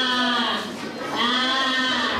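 A cartoon sheep grazing in a field calls out with two drawn-out 'baa' bleats, voiced by a person imitating the animal, loud and close with a short dip between the calls.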